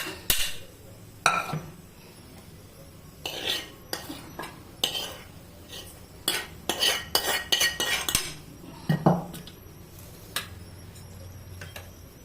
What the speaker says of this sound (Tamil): இப்போ நம்ம தயிர் ஊற்றி கலக்க போகிறோம்